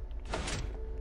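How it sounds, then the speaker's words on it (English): A door opening in the Minecraft video game, heard as a single short swishing slide of about half a second, moderately loud over a steady low background hum with no talking. "Open the door."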